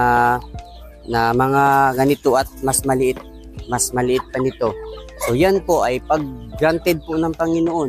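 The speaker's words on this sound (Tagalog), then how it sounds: "Ayan po yung isang tandang" Chickens, including a rooster and hens, cluck loudly and repeatedly up close on a small poultry farm, while someone talks over them throughout.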